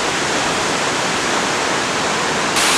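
Steady, dense roar of Drift Creek Falls in Oregon, water pouring continuously over the cliff in a wide, even rush with no voices.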